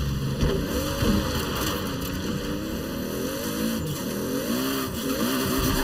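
A modified car in Forza Horizon 4, a Fairlady Z chassis with a Supra engine, spins its wheels in a steady, continuous high-revving roar with tire noise running underneath it. The sound holds without breaks, and no one speaks.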